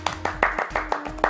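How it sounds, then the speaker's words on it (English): A few people clapping their hands in a quick, uneven burst of about six claps, close and fairly loud, with a low steady hum underneath. "That's a clap and a half."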